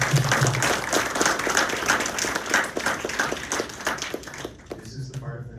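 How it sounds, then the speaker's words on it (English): An audience at a student entrepreneurship event applauds the panel, with close clapping and cheering under a talking voice that briefly thins out near the end. "I want to get a big round of applause for our panel tonight."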